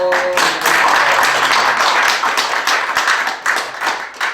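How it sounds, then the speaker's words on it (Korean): A small gathering claps for a first-time attendee, a lively, uneven patter of hands at close range that swells and then thins into scattered claps toward the end. "박수 한번 보내주시죠."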